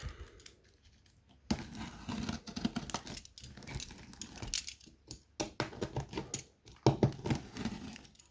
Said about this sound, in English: So I get my knife, which I usually use in all videos to open something